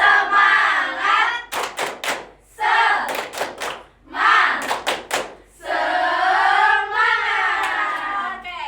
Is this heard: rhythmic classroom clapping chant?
yes